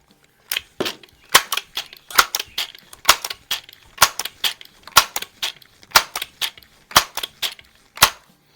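Air guns, a Crosman 2100 and a Daisy 880, firing and being pumped at a 25-yard target: sharp close snapping cracks in quick irregular clusters, interspersed with softer mechanical clicks.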